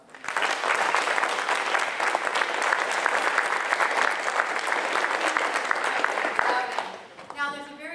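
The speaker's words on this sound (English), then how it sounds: "So a round of applause for him." An audience at a school play breaks into loud, sustained applause that holds steady for about seven seconds and then fades out, with a few voices and cheers near the end.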